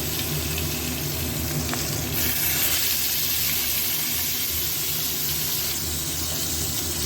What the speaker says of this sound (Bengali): বেগুনগুলো এবার ভেজে দেবো।